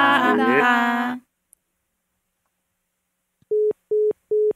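A telephone busy tone follows the hang-up of a phone call on a Korean podcast. A voice talks first, then there is a pause, then three evenly spaced, steady beeps ring out clearly.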